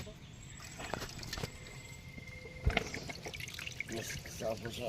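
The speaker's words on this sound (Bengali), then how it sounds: "আর একটু জল দিয়ে দে।" Water trickles and pours into a cooking pot at an outdoor riverside cookout on the Matla river in the Sundarbans. It comes as a steady, fairly faint stream with clinks and background voices talking.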